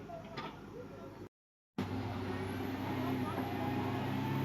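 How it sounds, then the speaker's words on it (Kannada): A lorry that came to deliver for house building reverses out of deep mud, its engine a steady, low, close rumble that drops out briefly, then returns, with a high whine near the end. "ಫೈನಲಿ ಗಾಡಿ ಫುಲ್ ರಿವರ್ಸ್ ಬಂದಿದೆ ಗಾಯ್ಸ್"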